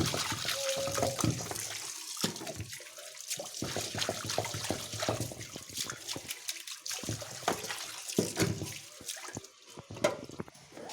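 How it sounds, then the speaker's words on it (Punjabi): Chopped onions washed under a running kitchen tap: water gushes and splashes continuously at close range, with uneven dips and surges as the pieces are rinsed by hand. "ਹੁਣ ਇਹਨਾਂ ਨੂੰ ਚੰਗੀ ਤਰ੍ਹਾਂ ਵਾਸ਼ ਕਰ ਲੂੰਗੀ ਮੈਂ"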